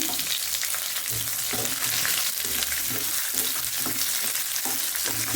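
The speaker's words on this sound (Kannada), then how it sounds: "ಇವಾಗ ಚಕ್ಕೆ, ಲವಂಗ ಮತ್ತು ಏಲಕ್ಕಿ ಇದನ್ನು ಫ್ರೈ ಆಗಬೇಕು." Cinnamon, cloves and cardamom fry with garlic in hot oil in a pan, giving a close, steady sizzle and crackle with occasional spatula scrapes and stirring noises throughout, and no speech.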